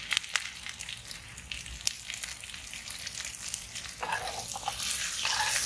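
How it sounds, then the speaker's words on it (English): Onion and salmon fry in a pan with a soft, fairly faint sizzle that grows louder toward the end, punctuated by a few sharp clicks and scrapes of a utensil; no voices. "So we let the onion fry"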